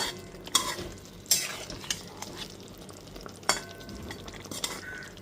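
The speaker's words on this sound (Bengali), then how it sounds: "সবজি আর মশলা খুব ভালো মতো কষিয়ে নিতে হবে।" Vegetables and spices for a thin Bengali fish curry are sautéed in a pan, a continuous soft sizzle broken by several sharp scrapes and clinks of a spatula against the metal, close and fairly quiet.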